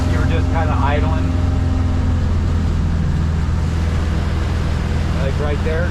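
A Yamaha F150 outboard motor on a 1919 Glasply boat running steadily at idle, a constant loud drone with a voice talking over it.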